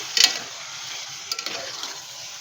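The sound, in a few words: chicken haleem ingredients frying on high flame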